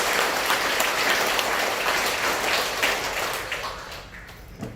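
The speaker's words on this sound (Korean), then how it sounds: "그런 뜻에서 박수 한번 치시고" Temple congregation clapping together during a Buddhist dharma talk, a loud, dense burst of applause from many hands that holds steady and then gradually tapers off.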